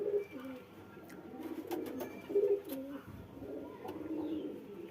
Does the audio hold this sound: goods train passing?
no